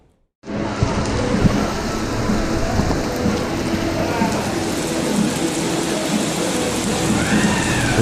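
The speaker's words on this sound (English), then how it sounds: "the storm is coming from back behind this building" Heavy rain pours steadily in a thunderstorm near a beach, starting abruptly and then roaring as a dense, constant hiss that stays loud throughout, with no voices.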